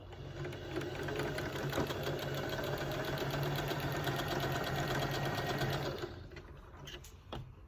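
A sewing machine stitching a quilt square runs in a fast steady rattle of needle strokes close up for about six seconds, then stops, followed by a few faint clicks.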